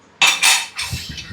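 Kitchen utensils being scrubbed and rinsed at home after a meal, with two loud bursts of clattering and scraping followed by softer clinks and knocks, close by with no talk.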